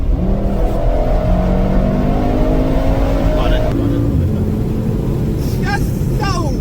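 Engine of a Mercedes G63 AMG while driving, a steady loud drone with a shift in pitch midway, heard from inside the cabin with some voices over it.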